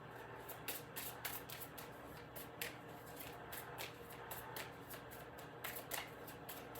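Rune cards being shuffled in a series of soft, quick papery riffles, repeating steadily and fairly faint over a low background hum, with no talking.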